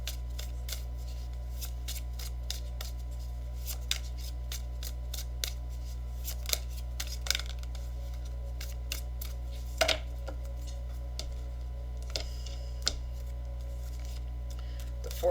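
Tarot advice and guidance cards being shuffled, a steady run of soft riffling snaps and flicks with a few sharper slaps, close and quiet over a low steady hum, no voices.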